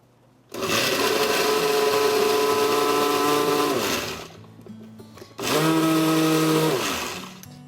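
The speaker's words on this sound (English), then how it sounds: "I have a blender here, and we're just going to puree your mango" A countertop blender purees fresh mango in two loud continuous bursts, the first about three and a half seconds long, then a brief pause and a second shorter run, with a steady whirring motor tone throughout.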